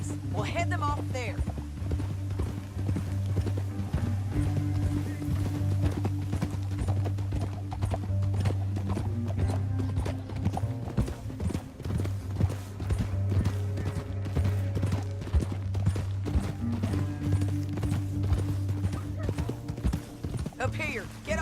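Horses gallop in the video game Red Dead Redemption, rapid rhythmic hoofbeats drumming steadily with occasional whinnies and a low musical score, while a voice speaks over them.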